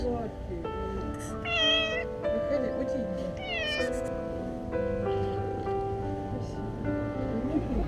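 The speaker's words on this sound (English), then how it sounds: "a cat that was stuck inside. The cat was crying for help" A cat stuck inside a house cries for help with repeated rising meows, some long and wailing, over a steady background with a voice talking throughout.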